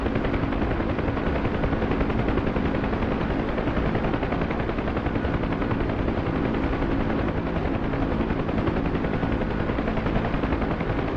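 Steady, loud rotor and turbine roar of a helicopter flying in a search-and-rescue video game, continuous throughout with no talk.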